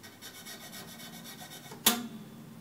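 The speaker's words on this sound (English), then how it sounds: "I'm back cutting the nut, I'm forward cutting the nut." A small file rasps back and forth in the second-string slot of an acoustic guitar's nut during setup, a quiet rhythmic series of scraping strokes, then a sharp brief knock near the end; no talking.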